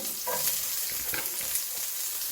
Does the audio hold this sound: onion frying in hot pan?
yes